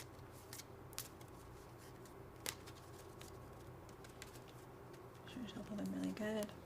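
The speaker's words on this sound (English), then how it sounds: "Shuffle them really good." Tarot cards are shuffled by hand, producing soft riffling and papery snaps over a steady background hum. A few sharper clicks stand out and a voice talks briefly near the end.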